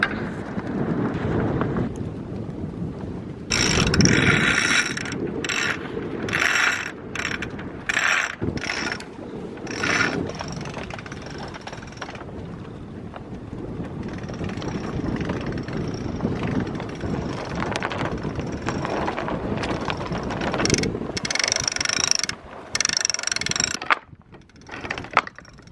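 A catamaran's sail halyard is winched up by hand, giving a close, loud run of rapid ratchet clicks and rattling pulley blocks in bursts with short pauses, over steady wind and water noise, with no talking.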